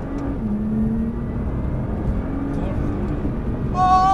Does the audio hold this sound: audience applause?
no